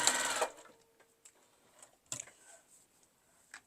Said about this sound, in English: Go to here and back stitch.